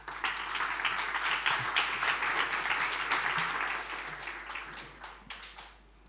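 Summit audience applauding the panel discussion participants, a full steady round of clapping from a room of people that thins out and fades over the last two seconds.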